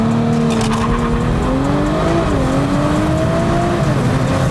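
An Audi launching hard on a drag run, engine roaring loud and close with tires spinning and squealing throughout, pitch climbing steadily as it revs.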